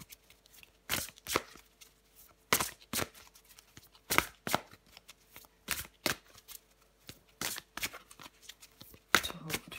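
Tarot cards being shuffled and drawn, a series of sharp riffling bursts and flicks at uneven intervals, close and crisp, with faint background noise between them.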